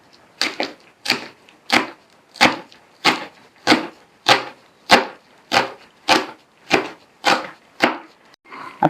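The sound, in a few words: knife chopping leeks lengthwise on a board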